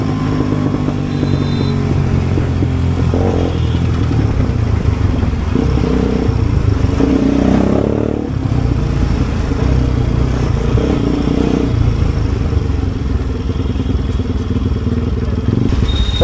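A motorcycle pulls hard in fourth gear on a group ride with an NS200, R15 V4 and Pulsar 220F. The engine drones loud and steady over rushing wind, swelling slightly as it accelerates.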